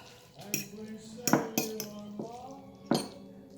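Clam sauce and cheese are stirred together in a dish, with a few sharp metallic clinks and scrapes of a utensil against the dish, spaced irregularly and fairly close, in an otherwise quiet room.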